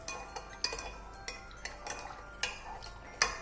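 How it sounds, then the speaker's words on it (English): A spoon stirring a homemade lemon essential oil cleaning solution in a container, a series of light clinks and taps at an uneven pace, close and fairly quiet, with no voices. "And we're just going to stir that together."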